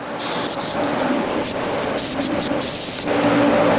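Spray gun laying a rough coat of paint on a 1992 GMC 3500 dually truck, a loud continuous hiss close by with short bright bursts as the trigger pulses.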